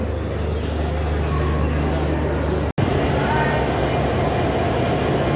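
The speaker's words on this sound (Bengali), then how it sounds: "আজকে ঢাকা থেকে রাজশাহীমুখী মধুমতি এক্সপ্রেসের আজকের লোকো আমেরিকান দানব ছেষট্টি বিশ বত্রিশ হর্স পাওয়ারের" Madhumati Express train with an American locomotive at Dhaka Kamalapur station: a loud, continuous, droning rumble with steady hum, cut by a momentary dropout midway.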